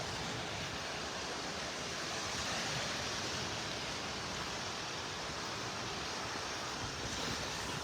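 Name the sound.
ocean waves on beach in North Naples, Florida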